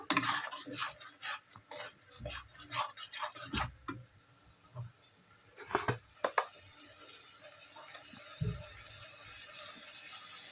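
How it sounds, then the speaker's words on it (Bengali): Prawn malai curry being stirred in a pan, with close scraping and clinking spoon strokes in irregular bursts, some watery splashing, then quieter stretches and a final few clanks. "ভালো করে নেড়ে নেবো"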